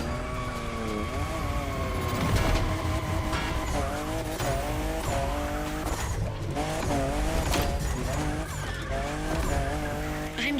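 A car drifts in The Crew Motorfest racing game, its engine revving loudly while tires squeal in long, wavering sweeps through repeated slides, continuous and close with no talking.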